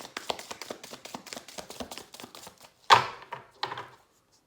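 A deck of tarot cards being shuffled by hand, a quick run of crisp riffling taps followed by a couple of louder slaps as the deck is squared, close and clear with no talking.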